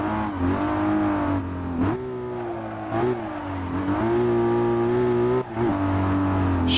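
A BMW E36 drift car in a driving game mod revs hard and steadily, its engine note rising and falling between short gaps at shifts, loud and close with no voices.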